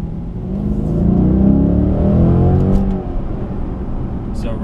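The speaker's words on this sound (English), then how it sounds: "I'll slap it down into first gear. And let's see if I can get the revs up a little bit" A 2008 Dodge Challenger SRT8 First Edition engine revs in first gear, a loud, close V8 rumble that swells and builds for about three seconds, then settles back to a steady idle.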